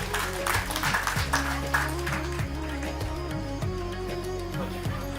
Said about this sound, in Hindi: जोरदार तालियां दोनों हमारी इस जोड़ी के लिए, नायर साहब और नायर भाभी